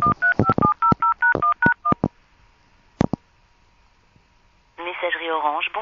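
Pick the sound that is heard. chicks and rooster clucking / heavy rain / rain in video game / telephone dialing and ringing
telephone dialing and ringing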